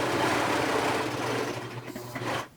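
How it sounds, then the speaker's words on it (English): A serger stitches fabric out to the edge, running in a steady loud mechanical whir with a low motor hum, then slowing and stopping abruptly at the end. "So let me flip this around and we're going to stitch"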